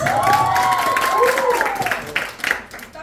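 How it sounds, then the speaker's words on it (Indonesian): A crowd at a church race event applauds a contestant named Moses; clapping runs under a loud voice calling out, then thins into scattered claps. "Tepuk tangan untuk Moses."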